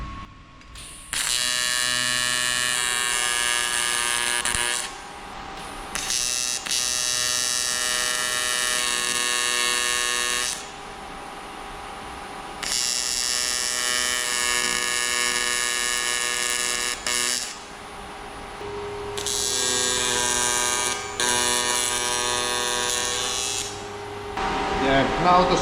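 Support pieces are tack welded onto a fat bike frame: long bursts of loud, steady electric buzz from the welder, roughly four or five runs separated by short pauses, close and harsh over a faint background.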